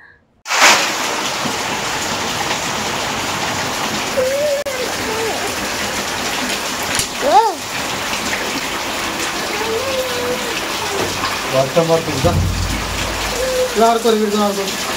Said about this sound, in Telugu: మేము ఇంటికి వచ్చినప్పటి నుంచి వర్షం పడుతూనే ఉంది.